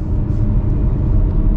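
A Porsche Cayman GTS with a 4.0-litre naturally aspirated engine rumbles with a loud, steady low drone, close up, with no voices.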